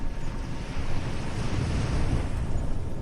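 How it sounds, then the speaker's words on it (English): Calm sea waves rolling steadily in open water, a continuous soft wash of surf with gentle wind noise, even and unbroken throughout with no voices. "The waves move steadily below, with or without your attention."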